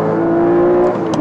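Porsche Cayman GTS engine revving hard as the driver shifts down from third to second, a loud, close, sustained mechanical drone that climbs in pitch toward the end, with no voices.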